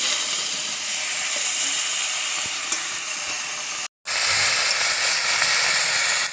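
Vegetables for Bengali shukto frying lightly in a pan, a loud, steady broadband sizzle that cuts out briefly in the middle and then resumes.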